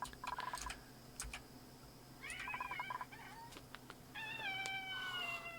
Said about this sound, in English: The kitty is screaming.